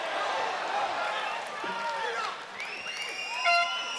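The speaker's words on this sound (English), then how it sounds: "The crowd likes it." A crowd at a live MMA event roars and cheers in a steady wash of noise, distant and filling the arena, while an announcer talks over it.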